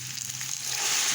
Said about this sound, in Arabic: بعد ما تسمعي التشويحه دي في الرز مع العدس